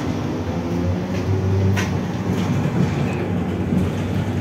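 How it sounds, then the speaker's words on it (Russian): A route 19 tram rolling along its rails, a steady loud rumble with rail clatter and faint squeal, close by and continuous, no talk. "19-й маршрут трамвая."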